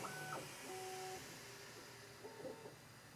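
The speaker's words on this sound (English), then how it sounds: "Auto bed leveling is in process." Bambu Lab P2S 3D printer during auto bed leveling, with short stepped motor whines changing pitch between probing moves over a steady fan hum, quiet and close.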